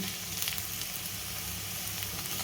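Sliced okra fries in oil in a pan while being mixed, making a steady, close, hissing sizzle that carries on evenly with no talk.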